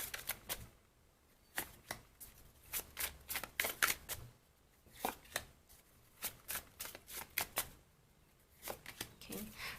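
Tarot cards being shuffled and cut in a series of crisp, close riffling snaps and slaps, coming in irregular clusters across the whole stretch with quiet pauses between.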